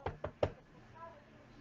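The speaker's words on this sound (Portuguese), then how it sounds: "E aí meio que batem na porta de vocês." Three sharp knocks land in quick succession at the start, as a knock on a door during a tabletop Mutant Year Zero game session, followed by quiet room tone.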